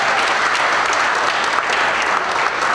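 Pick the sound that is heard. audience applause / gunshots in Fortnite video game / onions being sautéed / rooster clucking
audience applause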